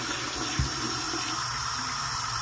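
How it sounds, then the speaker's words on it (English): Tap water runs steadily from a faucet as hands are rinsed at a sink, a constant broadband hiss with no speech. "Okay, now to rinse. But first I'm gonna rinse off my hands."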